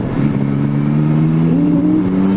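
A 2021 Yamaha Tracer 9 GT motorcycle engine accelerates under load, a loud, close drone rising in pitch through the revs.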